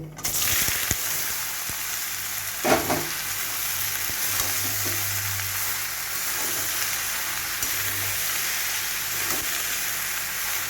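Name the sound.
bottle gourd frying in a pan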